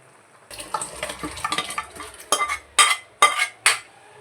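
Boiling liquid for homemade biryani is poured and moved into a rice cooker, with a series of close metallic clinks, scrapes and splashy bursts growing louder toward the end.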